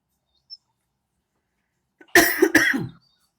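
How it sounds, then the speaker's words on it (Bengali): A person coughs twice in quick succession, close and loud, after near silence with one faint tiny sound earlier. "আমার কাশিটা একটু বেড়ে গেছে।"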